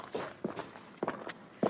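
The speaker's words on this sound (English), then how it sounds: "I can hear footsteps." Four footsteps echo along a tunnel in an abridged 1998 Famous Five audiobook, steady and moderately loud, with no talk over them.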